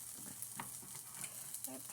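French toast fries in a pan with a soft, even sizzle, faint and steady, broken by a few light scrapes or taps from a utensil.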